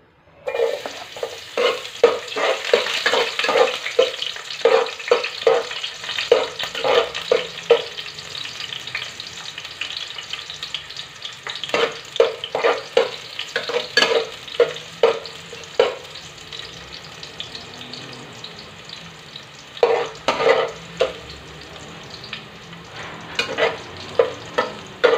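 Garlic sautés in a pan for ginataang tanigue, a steady sizzle broken by repeated scraping and stirring strokes that come in bursts, close and fairly loud, with no voices.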